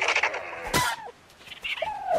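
Dodo birds in the survival video game ARK give short clucking and chirping calls, several close bird-like squawks in quick succession with no talk.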